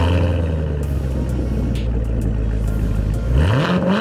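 A Chevrolet Corvette C7 Grand Sport's big engine runs with its exhaust in quiet mode, a close, steady deep hum and mechanical whir that swells into a short rising rev near the end, with no talking.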